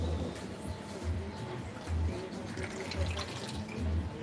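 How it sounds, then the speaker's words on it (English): A bartender pours liquor from a bottle into a jigger in a long, steady stream. A low trickling rush carries on under a busy room hum, with faint voices in the background. "show how he's pouring into the jigger"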